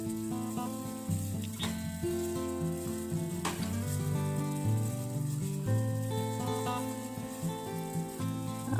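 A dry ginger herbal mixture for cold and cough sizzles softly in a pan as it is stirred and brought to a boil. The sound is faint and steady, under louder tonal background music.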